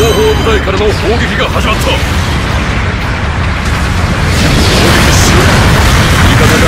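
Allied artillery bombardment in Gundam Battle Operation 2, a dense continuous roar of booming blasts that fills the whole clip, loud and close, with faint game voice chatter mixed in.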